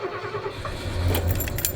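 A camper van is started for the first time, with keys jangling close by and then a brief low engine crank, all within under two seconds.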